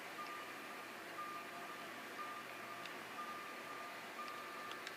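Dump truck reversing beeps in GTA V, a steady series of evenly spaced electronic tones repeating about once per second over a low engine hum, with no voices.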